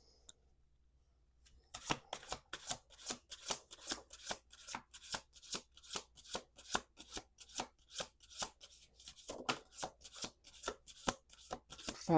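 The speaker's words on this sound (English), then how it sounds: "Let's do 2 more shuffles." A tarot deck being shuffled by hand, a quick steady run of crisp card riffles and taps that starts after a short silence and continues close and clear with no talking.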